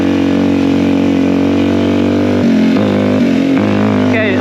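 A Suzuki DRZ 400 dirt bike runs close by with a steady, loud engine drone that dips and shifts pitch near the end as the throttle changes.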